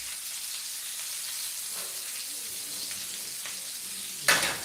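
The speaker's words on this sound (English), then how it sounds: "this is putting up a lot of splatter" Chicken thighs pan-frying in a hot pan, a steady close sizzle and hiss with scattered pops of splatter, ending in a sudden louder burst of spitting.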